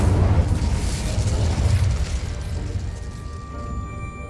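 An Incendio fire spell blast in Hogwarts Legacy: a loud, close, roaring burst with a deep rumble that slowly fades, leaving a faint ringing tone at the end, with no voice over it.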